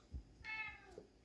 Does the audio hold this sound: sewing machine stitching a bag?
no